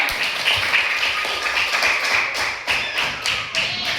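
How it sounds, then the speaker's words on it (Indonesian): Students clap their hands together in a classroom, a run of loud, close, slightly uneven claps and taps over about four seconds, with little talk. "Oke, tepuk tangan dulu."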